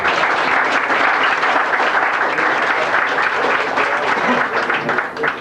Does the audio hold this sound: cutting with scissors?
no